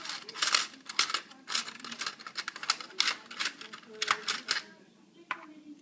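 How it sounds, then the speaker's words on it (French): A small plastic spatula, an iPhone opening tool, prying the rubber membrane off a Uwatec Scubapro Aladin Air Z dive computer, making a run of close, dry clicks, scrapes and crinkles in irregular bursts. "Donc j'ai rentré la petite spatule en plastique qui se présente comme ça."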